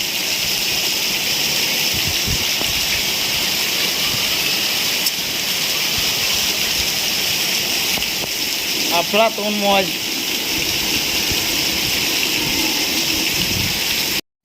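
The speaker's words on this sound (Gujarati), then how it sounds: "તમારા ગામમાં કેટલો વરસાદ પડે છે એ કમેન્ટ કરીને જણાવો" Heavy rain pours in a constant dense rush, loud and close, while a person briefly speaks partway through.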